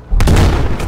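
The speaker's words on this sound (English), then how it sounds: "The resulting explosion again cracks the silence and batters our ears" A V-1 flying bomb explodes in the video game Battlefield V with a loud, deep boom. The blast hits suddenly and rolls on as a heavy rumble with a second swell near the end.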